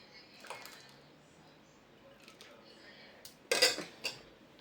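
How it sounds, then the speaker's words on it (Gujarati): A metal spoon clinks against a pot of freshly cooked urad dal in a home kitchen. A few sharp, close clinks and scrapes come near the end over a quiet background. "અત્યારે હું જરાક ટેસ્ટ કરીને બતાવું ચમચીથી દાળ બની છે"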